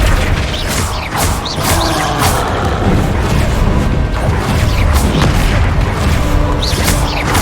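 Repeated blasting-spell explosions from the Hogwarts Legacy video game crack and boom in quick succession, loud and dense, layered over mechanical rattling and debris throughout.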